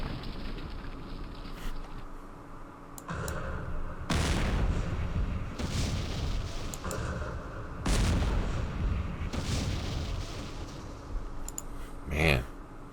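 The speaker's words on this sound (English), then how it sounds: "Man, damn missiles." Missile strikes in the wargame Campaign Series Middle East, a series of broad booming impacts in separate bursts with clicks between them, moderately loud with speech around them.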